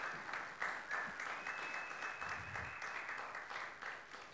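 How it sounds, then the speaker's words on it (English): A modest lecture audience at a slam poetry championship claps in a soft, continuous ripple of applause, fairly faint and somewhat distant, with a light hum under it. "a nice round of applause, please, for Bala"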